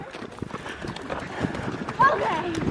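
Hooves of a running horse thud and clatter in the background while people talk and exclaim nearby.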